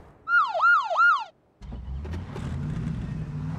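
A rapid wailing video game siren sweeps up and down three times, then stops abruptly. A low rumbling engine-like drone follows.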